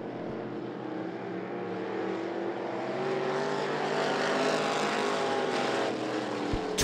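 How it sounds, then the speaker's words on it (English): Race cars on an oval track at I-75 Raceway roar past in a close race, a dense continuous engine drone that builds slightly in loudness across the stretch, with no talk over it. "a very close race over the 112 of Smith."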